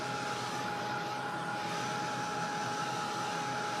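A heat tool or hair dryer blows a steady, loud, close whooshing roar while drying a mixed media art journal page from the back, with no voices.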